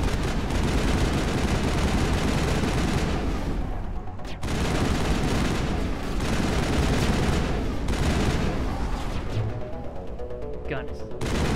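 Weapons fire rattles in Mass Effect as dense, sustained bursts with short breaks between them, loud and continuous across several seconds, with a voice talking under the shooting.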